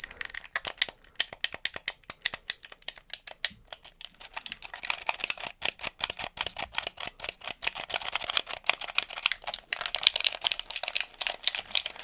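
Fast, light plastic clicking and tapping of video game controller buttons, dense and irregular like rapid button mashing, fairly close and steady throughout.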